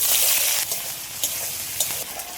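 Chopped onions, about half a kilo, fry in hot oil in a pan for a mutton curry, giving a steady close sizzle with brief stirring scrapes.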